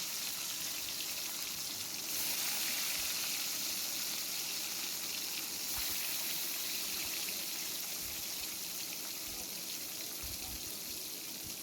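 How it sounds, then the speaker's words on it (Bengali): Fish frying in mustard oil in a wok gives a continuous, even hiss of hot oil, fairly faint and steady with little variation, no voices. "কড়াই সরষার তেল দিয়ে দিয়েছি। মাছগুলো এবারে ভেজে নেব লাল লাল করে।"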